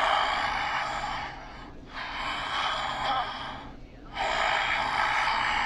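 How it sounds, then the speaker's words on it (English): A caller on the phone breathing heavily in a video game, long rushing breaths close to the mic filling the line, with two brief pauses between them. "Why are you breathing?"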